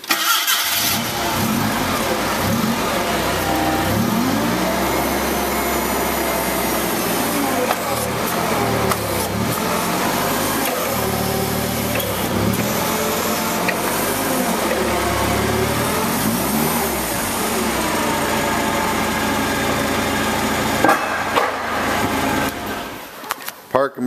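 Komatsu FG25 forklift engine running close by, a loud, steady mid-pitched drone with slight rises and falls in revs throughout, someone talking over it.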